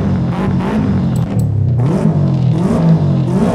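A Subaru race car's engine revs in Forza Horizon 5, a loud, continuous whirring roar that rises and falls with throttle, close and alone.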